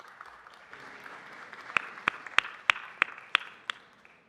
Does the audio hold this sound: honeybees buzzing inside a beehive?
no